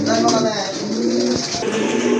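A pair of pigeons for sale coo in low, rolling calls, close and continuous, mixed with someone speaking.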